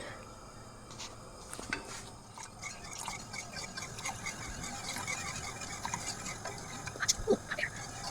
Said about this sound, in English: There's cornstarch with water, so we're gonna slowly put it in while we're stirring it.